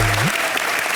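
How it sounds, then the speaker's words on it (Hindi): A television comedy studio audience breaks into a short, loud burst of applause for Pooja, with a brief low tone fading out at the start. "जोरदार तालियां पूजा के"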